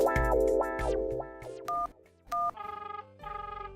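A telephone number is keyed in to call a hospital in an animated comedy: a quick run of distinct keypad beeps, clear and close, following a few musical tones.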